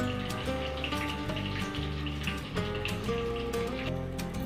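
Potatoes sizzle in hot oil in a pan for aloo tahari, frying until light golden brown; a steady crackling hiss runs throughout under soft background music, with no speech.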